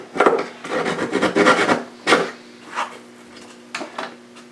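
Wooden guitar kerfing trimmed to fit, with a series of close, raspy cutting and rubbing strokes in uneven bursts, then a few sparser scrapes, under a faint steady hum.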